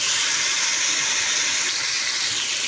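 Ground onion, garlic, ginger and cardamom paste frying in a pan: a steady, bright sizzling hiss that goes on without pause, close and fairly loud, with no one talking.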